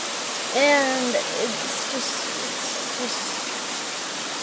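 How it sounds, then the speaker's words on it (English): Heavy rain pouring outside an open, stuck window, a dense steady hiss throughout, with a voice speaking briefly near the start. "It's raining so hard."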